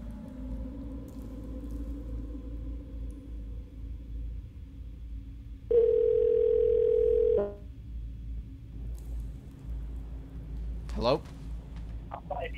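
A telephone line tone sounds during a forwarded call to automated voicemail, a steady beep holding for under two seconds against a quiet hum, followed by brief clicks.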